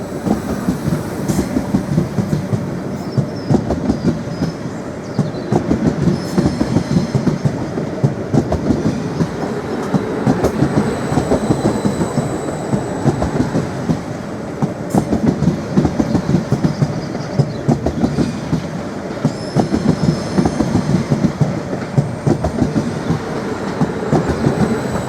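Class 745 unit 745004 pulls out of Norwich station's platform 1 on the 15:00 service to London Liverpool Street, a loud, continuous rumble of wheels with steady clickety-clack over the rails and faint high squeals.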